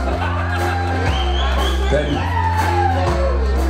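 A concert crowd at a live show in Rynach, marking a 50th anniversary, shouts, whoops and cheers loudly over steady, bass-heavy music, with voices rising in bursts throughout.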